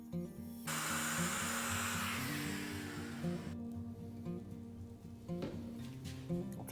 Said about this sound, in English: with a downcut router bit, I'll recess a pocket, I'd say about a 1/4 inch or so deep